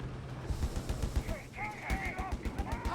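Sustained .50 cal machine gun fire in Company of Heroes 3, a World War II strategy game battle, rapid bursts of rattling shots rolling on under a commentator's voice, with other battle noise in the mix.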